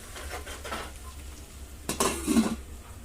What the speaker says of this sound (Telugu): మూత పెట్టేసుకుందాం